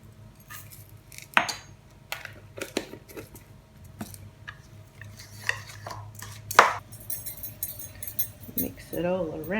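Cookie dough being mixed in a bowl with flour and a tablespoon of Funfetti sprinkles, giving scattered clinks and scraping taps of a utensil against the dish, with intermittent talking over the kitchen sounds.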